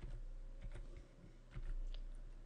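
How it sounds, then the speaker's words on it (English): Light keyboard taps come in a short sparse run as values are typed into 3D modeling software, faint over a steady low hum. "I'm going to type in 10 feet"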